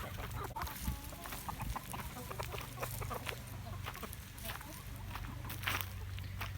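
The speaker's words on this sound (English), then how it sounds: "And over here is my oldest chicken" An older backyard chicken, more than six years old, clucks in an outdoor coop area. Several soft, scattered clucks sound close by over a faint, continuous outdoor background.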